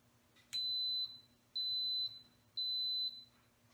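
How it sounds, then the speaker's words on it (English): An Instant Pot pressure cooker beeps three times as it begins building pressure, each a steady electronic tone about half a second long, evenly spaced a second apart over a low hum, clear and close. "it's gonna click over and it's gonna beep indicating that it's starting to build the pressure"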